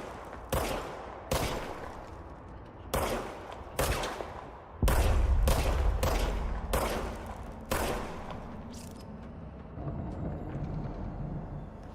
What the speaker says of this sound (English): now I have a gun